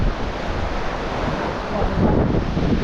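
Strong wind gusting on an open site on a rainless day, a steady loud rush of broadband noise buffeting the microphone, swelling stronger toward the end, with no voices.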